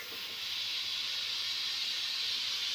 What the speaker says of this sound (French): Je vais le mettre au maximum. Voilà. Maximum vapeur.